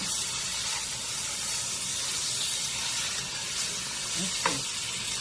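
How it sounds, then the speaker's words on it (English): Pork chops brown in a hot frying pan, giving off a loud, steady sizzling hiss that runs without a break, with a person talking over it. "you just want to brown them just enough to get a little crust on them"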